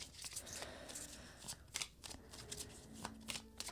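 Tarot cards shuffled by hand in quick, crisp riffling bursts, close and fairly soft, with brief pauses between the runs of flicking.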